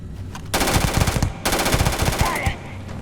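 Rapid automatic gunfire bursts out in two long volleys during a Starfield firefight, loud and close, separated by a short pause and then cut off.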